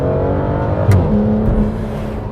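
A 2015 Aston Martin DB9 GT's 6-litre V12 runs loud and close with a steady throaty drone and a brief rising rev in the middle, and no talking.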